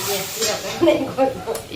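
Curry leaves and asafoetida sizzle in hot oil as a tempering for dal dhokli, a brief steady hiss with light stirring under a talking voice.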